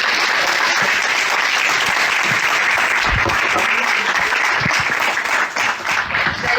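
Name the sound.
audience applause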